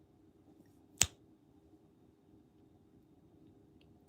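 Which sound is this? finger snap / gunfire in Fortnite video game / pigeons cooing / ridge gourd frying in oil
finger snap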